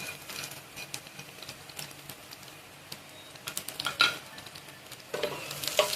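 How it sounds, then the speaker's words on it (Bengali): Chopped garlic, onion and dried chili frying in a pan, a faint steady sizzle broken by sharp scraping and stirring clicks that grow busier toward the end, with no talk. "পেঁয়াজ, শুকনো লঙ্কা আর রসুন একটু ভালো করে ভেজে নেব।"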